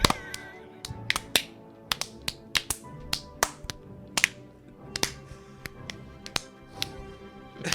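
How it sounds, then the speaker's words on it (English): A slow, uneven series of sharp single claps, each crisp hit spaced apart with short pauses, close by and moderately loud, with no voices. "Good slow clap."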